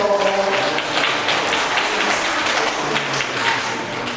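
Audience applause for a violist being welcomed at a children's string-instrument concert, a dense steady clapping that fills the whole stretch at close range with no talk over it.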